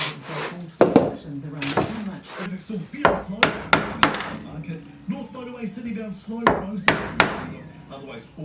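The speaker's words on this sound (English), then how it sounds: "I'll trim the edges up with a chisel." A chisel trims the edges of a recess cut in a wooden panel, producing irregular sharp taps and knocks mixed with scraping and rubbing of wood, close and fairly loud.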